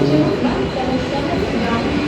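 A steady rumble of a local train fills a busy Thane railway station at midnight, a close, continuous roar with station noise and a faint voice underneath.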